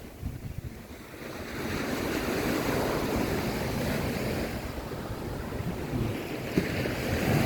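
Strong gusting wind roars against the microphone over steady crashing surf on a beach at Nam Rin, a continuous, loud, close wash of waves and wind noise with no voices.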